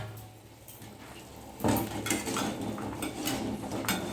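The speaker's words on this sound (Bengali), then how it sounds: "ডিমের ঢাকনাটা আমি খুলে নেবো।" Lid lifted off a pot of boiled eggs: after a quiet kitchen hum, a sudden metallic clank is followed by light rattling and scraping of the pot lid, close and fairly soft.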